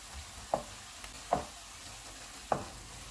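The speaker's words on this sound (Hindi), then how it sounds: "इसमें सब्ज़ मिर्चें डालेंगे और इनको 1 मिनट तक फ्राई करेंगे" Onions and green chillies frying in a pan over low to medium heat, with three brief stirring clatters over a quiet, steady sizzle.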